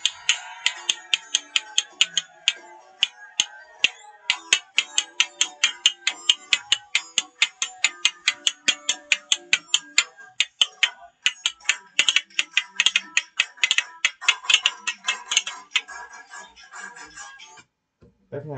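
Spoons played as a percussion instrument with music: a long run of bright, rapid clicking strikes in steady rhythm, near and fairly loud, with faint music beneath, slowing and thinning toward the end.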